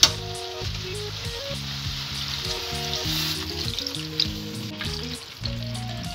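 Winter mixed vegetables, sautéed with spices, hiss and bubble steadily in a hot pan after water is added, a continuous close sizzle running beneath melodic background music.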